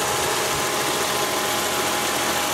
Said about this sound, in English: You can hear the fan.